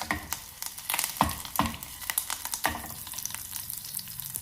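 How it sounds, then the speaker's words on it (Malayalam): Curry leaves and red chillies spluttering in hot oil for a tempering, a busy crackling sizzle with several sharp pops close by, continuous throughout. "കറിവേപ്പിലയും ചുവന്ന മുളകും ചേർക്കാം."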